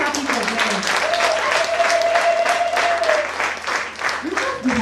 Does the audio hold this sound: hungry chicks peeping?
no